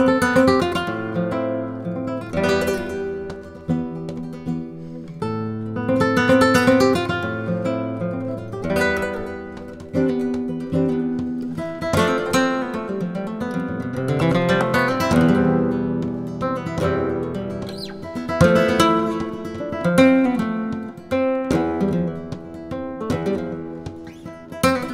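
Solo flamenco guitar plays a melody in a Bulerías rhythm, with strummed rasgueado chords and plucked melodic runs at a steady, lively pace, close and clear with no voices.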